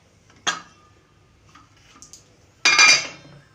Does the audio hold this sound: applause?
no